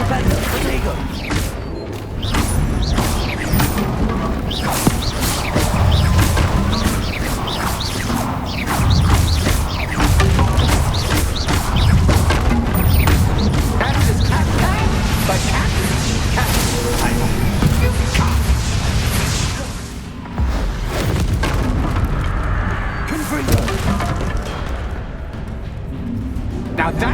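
Bombarda spell blasts in the game Hogwarts Legacy, a sustained barrage of loud crashing explosions and impacts layered with dense combat effects, with voices speaking through the din.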